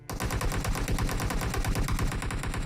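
Rapid automatic gunfire in the PUBG Mobile video game, a fast, loud, evenly spaced burst of shots that runs continuously from start to finish with no talk.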